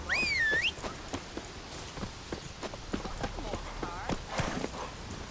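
Hooves of the horse Roach in The Witcher 3: Wild Hunt clop at a steady walking pace over spoken dialogue, with a brief whinny near the start and ambient game sound underneath.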